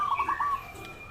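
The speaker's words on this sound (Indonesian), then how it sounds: "burung perkutut itu ya berdominan itu suaranya itu masing-masing dari burung perkutut satu ke yang satu" A zebra dove, the small local perkutut kept for singing contests, gives a short run of soft, clear coos, fairly close and alone with no talk over it.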